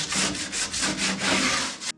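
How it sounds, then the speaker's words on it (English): A piece of wood being rubbed with sandpaper, close and fairly loud, in rhythmic back-and-forth strokes of about six or seven passes. "Then we'll have to give it a little rub with the sandpaper."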